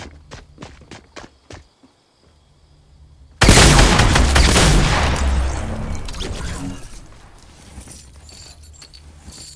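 Fortnite gunfire from two Scar assault rifles: a few sharp isolated shots early on, then a sudden loud, dense burst of rapid fire that slowly thins out into lingering in-game noise.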